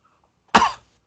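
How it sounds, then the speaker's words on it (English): A single sharp cough, close and fairly loud, bursting out after a moment of near silence and fading within a fraction of a second. "Turn your head and cough."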